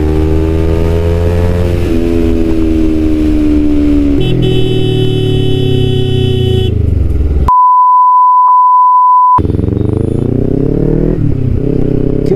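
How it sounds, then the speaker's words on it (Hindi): In city traffic in Jodhpur, a vehicle horn blares as a long steady tone for about two seconds, set amid loud motorcycle and car engine drone and revving that fill the rest of the clip. "हॉर्न दे दिया है, पासिंग दे दिया"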